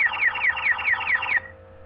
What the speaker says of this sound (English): it's going to set off an alarm